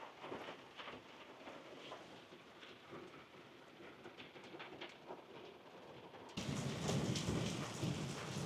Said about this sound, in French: c'est pas le déluge, hein, mais bon, il pleut.